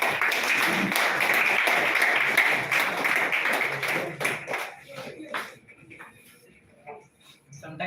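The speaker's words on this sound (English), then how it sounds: "Sometimes the loudness of the clappings, applause says that okay, we did something well." An audience claps and applauds together at a public clinic event, dense and sustained for about four seconds, then thinning into scattered claps before a brief final burst.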